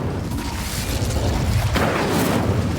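An Incendio fire spell in Hogwarts Legacy goes off as a dense, roaring, whooshing burst that swells and holds loud for a few seconds, with a brief dip and a fresh surge midway.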